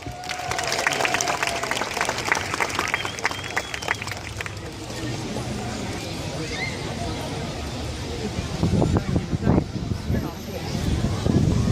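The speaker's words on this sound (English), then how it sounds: "So everybody, a round of applause." A festival audience at a university cultures festival applauds a performer being introduced on stage, a sustained wash of clapping under crowd babble and talk, with a swell of louder claps near the end.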